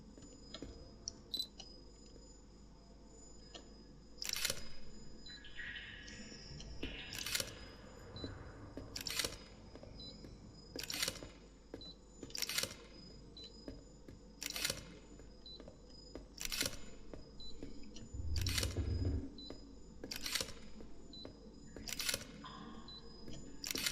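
In the horror video game Gretlow Tapes, sharp camera shutter clicks ring out about a dozen times at roughly regular intervals, each one crisp and distinct above a faint, steady insect-like ambient drone.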